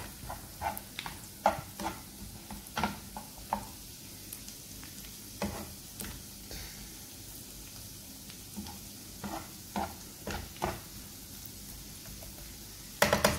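Shrimp cooking in garlic butter in a pan, a soft continuous sizzle punctuated by repeated sharp scraping and stirring clicks spread across the clip.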